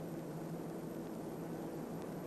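C-47 transport planes arriving on a wartime airdrop mission for isolated troops, their engines a steady, broad, distant drone under a wash of noise, with no talk.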